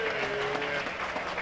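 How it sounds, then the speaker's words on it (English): An audience claps for a lead trumpet player at a live band performance, the applause steady and close, mixed with crowd murmur and a sustained musical tone underneath. "the girls are already clapping for him, right?"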